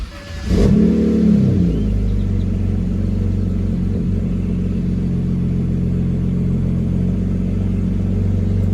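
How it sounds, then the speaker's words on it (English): A BMW 328i engine cranks and catches, revs up briefly, then settles into a steady, rumbling idle close by. "now we're gonna go ahead and turn my car on"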